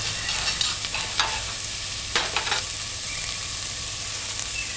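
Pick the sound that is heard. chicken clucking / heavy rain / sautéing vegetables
sautéing vegetables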